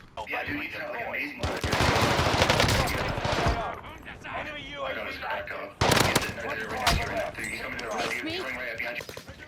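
Automaton rifle bursts in a Warzone match crack out in two loud volleys of rapid automatic fire, separated by quieter game ambience and someone talking over the action.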